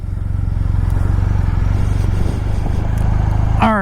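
A BMW R1250 RT motorcycle idles with a loud, close, rhythmic engine throb, then pulls away easily, the engine note rising near the end.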